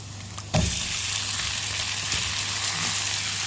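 Shrimp dropped into a pan of browned garlic and butter burst into a loud, steady sizzle that holds evenly to the end, with a faint hum beneath and no talking.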